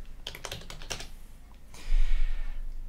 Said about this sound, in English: And then just start typing.